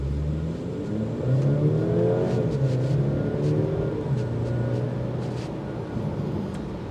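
A Mercedes-Benz E350 car accelerates with a rising engine drone that climbs through gear changes, a loud, close cabin sound with a steady whir beneath it and no talking.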